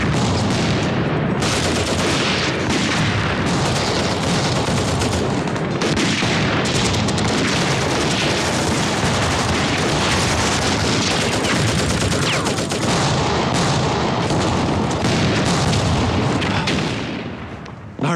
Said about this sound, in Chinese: 一个营的兵力怎么能有这么密集的枪声啊？